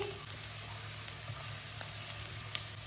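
Chopped garlic and green chillies sizzle in hot oil, a soft, steady frying hiss with faint crackles and one small sharp pop near the end, close and fairly quiet.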